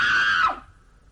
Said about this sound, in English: Your scream woke me.